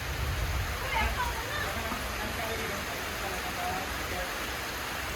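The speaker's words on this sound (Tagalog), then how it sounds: "it's raining here sa Bukids." Rain falls steadily in the Bukidnon countryside, a soft, even hiss of broadband wash that stays constant and fairly faint with no distinct drops standing out.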